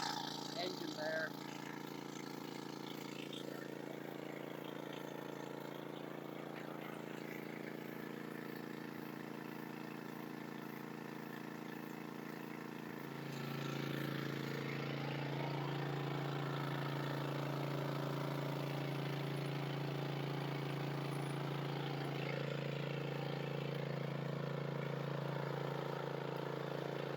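The engine of an 8-inch gold dredge in Alaska runs steadily, a low continuous drone that grows louder and rougher halfway through and holds steady to the end. A person talks over it throughout.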